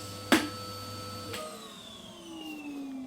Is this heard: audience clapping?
no